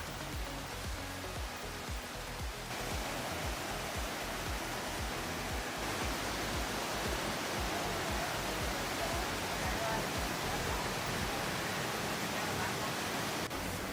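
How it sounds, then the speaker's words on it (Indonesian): Steady broadband rush of flowing water from the Curug Buleud waterfall and stream in a forest, continuous and fairly loud with no voices. "Suara gemericik air, rimbunnya pepohonan, dan suara satwa"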